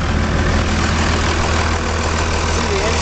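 A 2001 Dodge Ram 3500 dually diesel pickup truck engine idles nearby with a steady, low, knocking rumble that stays even and unchanging, with no voices.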